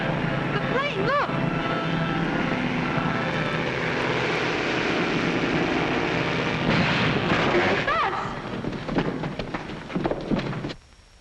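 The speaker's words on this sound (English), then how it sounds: "The plane, look!" A 1940s propeller airplane roars loudly overhead in the wilderness, its engine drone steady and close for most of the stretch before fading out at the end, with a few shouted voices breaking through near the end.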